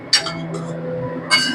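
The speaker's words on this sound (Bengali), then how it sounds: "এবারে আমি একটু ঢাকা দিয়ে দেবো" A lid set on a pan of bhetki fish gravy: a bright clink of metal or glass, a lighter rattle, then a second clink as it settles, close and clear with no one speaking.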